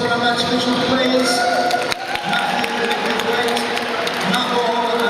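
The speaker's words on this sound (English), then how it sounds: "One round of applause for our match officials" A crowd at a wheelchair rugby league match gives the match officials a round of applause, steady clapping and cheering that stays loud throughout while a voice speaks over it.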